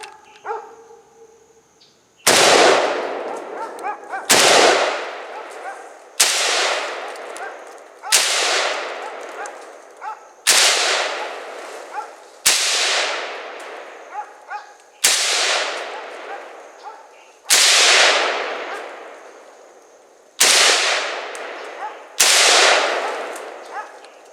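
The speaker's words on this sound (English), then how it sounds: "I'm just going to hit it till I can't shoot at it anymore, even if it flips over" Ten loud gunshots are fired one by one at a Master Lock outdoors, each a sharp close crack with a trailing echo, spaced about two seconds apart, with faint clinks between them.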